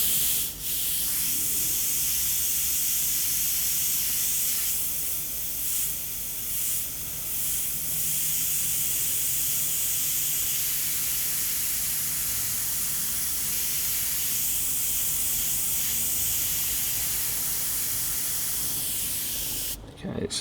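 An SB airbrush fitted with a 0.23mm needle and nozzle sprays paint through a stencil onto a skull design, giving a steady close airy hiss with a few brief pulses and a short break near the end.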